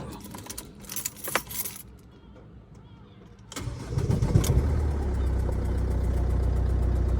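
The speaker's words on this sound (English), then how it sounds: "I'm going to start the engine now" Keys jangle close by, then after a short quiet a 2006 Ford Fiesta 1.4 TDCi diesel cranks and catches, settling into a steady, loud idle under the open bonnet.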